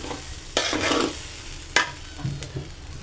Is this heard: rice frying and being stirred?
yes